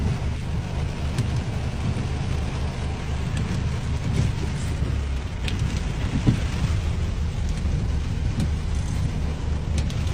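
Steady heavy rain roars without letup in a thunderstorm in Lombardy, Italy, mixed with a low rumble and occasional splashes, loud and unbroken throughout.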